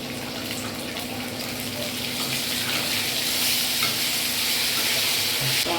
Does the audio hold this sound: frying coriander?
yes